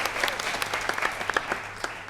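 An audience claps for a panel member at a live real estate panel debate on MLS rules, a steady burst of applause from a modest crowd lasting about two seconds.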